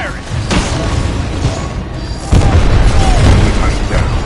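A Titan's smart core weapon in Titanfall 2 fires repeatedly, with heavy booming explosions and bursts, a loud blast around the midpoint, and dense battle noise throughout.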